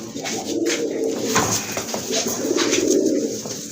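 Pigeons coo at a pigeon sale, giving repeated soft, throaty calls close by, overlapping with rustling and faint background chatter.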